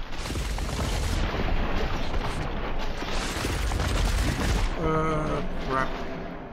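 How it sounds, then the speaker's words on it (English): A flashbang grenade goes off during a firefight in the video game Cepheus Protocol, a loud booming blast that is followed by a ringing, tonal aftermath, amid continuous dense gunfire and battle noise. "Flashbang."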